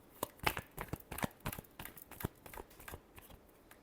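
Tarot cards being given a final shuffle: a close, quiet run of crisp riffling and papery slaps in irregular bursts, with no voice.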